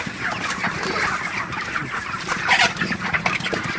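A flock of broiler chickens clucking and squawking all at once, a busy continuous chorus close by with no talking.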